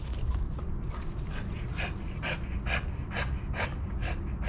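A dog pants rapidly and steadily at close range after a game of tug-of-war, with quick breathy huffs and faint whimpers, fairly quiet and without talk.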